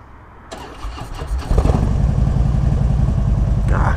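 A motorcycle engine cranks and fires up after a brief quiet moment, then settles into a steady, throaty idle that stays loud and close.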